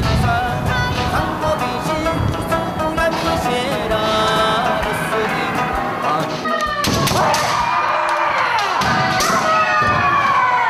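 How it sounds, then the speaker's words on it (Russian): Kendo students in a second-floor martial arts hall in Naha, Okinawa, shout in repeated loud bursts, mixed with thuds and overlapping voices. "И даже с улицы слышно, как кричат занимающиеся студенты."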